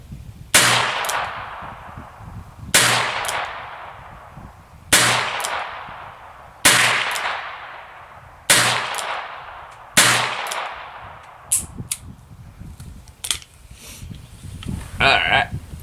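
Six loud, evenly spaced shots from .22 LR revolvers, a Smith & Wesson Model 17-3 and a Heritage Rough Rider, at an outdoor shooting range, each with a ringing decay, followed by handling clatter and a faint voice.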